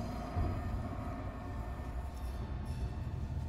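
A train rolling into a station in the sci-fi horror game Alien: Isolation, a steady low mechanical rumble with a faint hiss, continuous and moderately distant, no voices.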